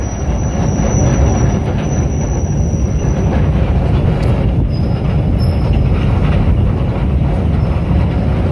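Track-laying work train on the Jakarta-Bandung high-speed rail line, a loud continuous rumble of rolling wheels with high metallic squealing and steady clatter, heard close and alone.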